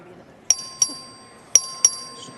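Voting bell in the Texas House of Representatives chamber, struck four times in two quick pairs. Each bright, ringing ding decays slowly in a large, quiet hall.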